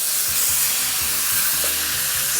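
Beef hits hot oil in a wok with a steady, loud broadband sizzle and hiss, with low clattering pulses of stirring or tossing running underneath throughout.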